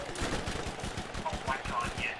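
SMG gunfire in the video game Borderlands: a rapid, continuous stream of sharp shots, close and loud, firing in tight automatic bursts.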